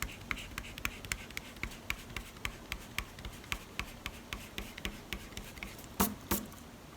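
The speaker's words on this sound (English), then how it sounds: "erase out the vertical line." Rapid rhythmic rubbing of an eraser clearing pencil lines on paper during a face drawing, with soft repeated strokes about twice a second and a couple of louder scrubs near the end, quiet and close.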